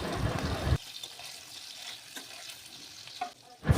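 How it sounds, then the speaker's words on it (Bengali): Green chillies, crushed garlic and five-spice sizzle in fish-frying oil, a brief loud burst of frying that drops to a quieter crackle with light stirring clinks before surging again at the end. "মাছ ভাজা তেলের মধ্যে কয়েকটি চেরা কাঁচা লঙ্কা কয়েকটি থেতো করা রসুনের কোয়া আর পাঁচ ফোড়ন দিয়ে হালকা ব্রাউন করে ভেজে নেব"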